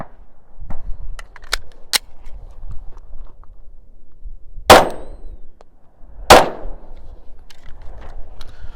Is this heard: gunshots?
yes